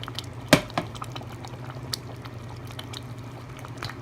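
Tomato sauce with beans and bacon bubbling in a pot over high heat, a steady close simmering hiss broken by a few distinct pops and splats, with no talking.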